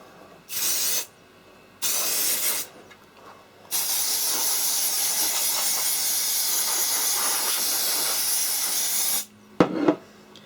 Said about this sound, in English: Basically spray everything on the inside of the